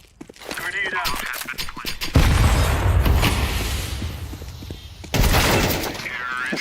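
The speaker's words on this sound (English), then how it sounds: "Grenade out." Grenade blasts in a multiplayer shooter game, two loud booming bursts with heavy low rumble about three seconds apart, amid gunfire and clatter, with a voice talking over the action.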